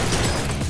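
Gunfire from the video game Blue Estate comes as a single dense, booming burst of noise that fills the whole short moment, loud and close.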